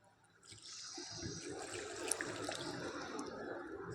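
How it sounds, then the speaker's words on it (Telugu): Water poured from a glass into a mixer jar holding chopped coconut pieces, a steady splashing gush that starts after a brief quiet moment and runs on close and fairly loud. "ఇప్పుడు ఒక గ్లాసు నీళ్ళు వేసుకుంటున్నాను."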